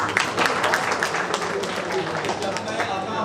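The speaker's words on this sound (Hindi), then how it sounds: "मैं चाहता हूँ एक बार ग्राम सर के लिए ताली हो जाए।" A seminar audience in Sahibganj claps in a steady round of applause for a business event, with a voice speaking over it.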